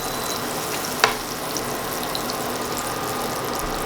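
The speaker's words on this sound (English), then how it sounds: "You're gonna watch that butter melt." Butter sizzling and bubbling as it melts in an already hot pan, a soft continuous crackle with one brief sharp pop near the start, no voices.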